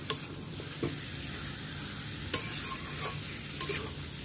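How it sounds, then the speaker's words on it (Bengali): Chicken with crushed ginger and garlic stir-frying in a pan, a continuous close sizzle broken by a few sharp spatula taps and scrapes. "আমি এখানে থেতে রাখা যে আদা রসুনগুলো রেখেছিলাম, এটা আমি চিকেনের মধ্যে দিয়ে দেব।"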